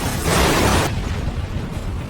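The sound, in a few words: car crash and explosion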